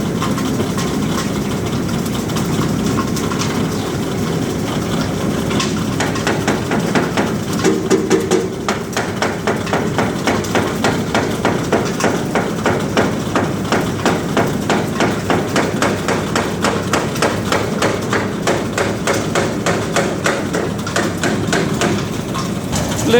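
A grinding machine turns feed ingredients into powder with a loud steady mechanical drone and a fast repeating thumping beat that grows more regular, continuous throughout with no talk.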